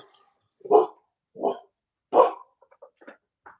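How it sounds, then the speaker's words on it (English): A dog barks three times in loud, spaced bursts, followed by a few softer, higher yips. "Semper is barking. My doggies are downstairs."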